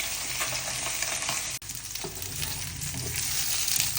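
Fish frying in hot oil for a Bengali home meal sizzles steadily and fairly quietly, a continuous crackle with a brief stir or clatter partway through and no talk.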